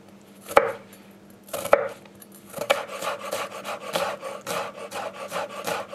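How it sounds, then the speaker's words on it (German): Close knife chops on a cutting board: two or three separate strikes, then a quick, steady run of dicing. "Und die werden wir dann gleich einmal fein würfeln."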